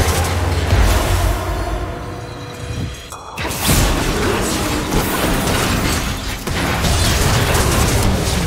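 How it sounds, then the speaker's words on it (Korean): A turret is destroyed in a League of Legends match, with loud crashing and booming mechanical destruction over busy game effects that stay dense and loud throughout. "빨강 팀의 포탑이 파괴되었습니다."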